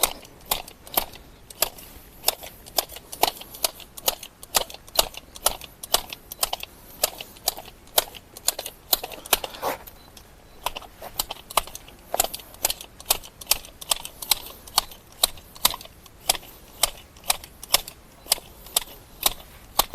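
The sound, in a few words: telescopic shears cutting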